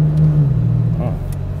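Toyota Tacoma TRD Pro pickup with a sport exhaust, a steady loud low drone and rumble from the exhaust, holding a constant note with a slight dip in pitch, close and alone without speech.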